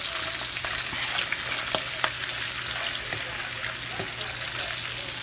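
Bacon fries in hot grease with a steady bright sizzle, broken by scattered crisp pops and spits, close and continuous throughout.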